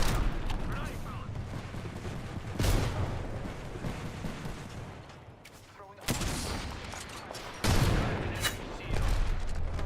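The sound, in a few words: gunfire and grenades in a shooter video game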